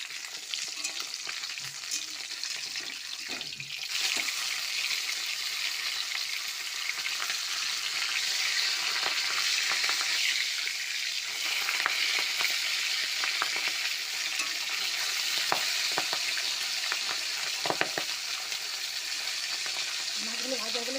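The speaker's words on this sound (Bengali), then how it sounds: "বাকি মাছগুলো আমি ভেজে নিয়েছি পাবদা মাছগুলো সব আমি ভেজে নিয়েছি" Pabda fish frying in oil in a pan, a continuous dense sizzle throughout with occasional crackles and pops, fairly loud and close.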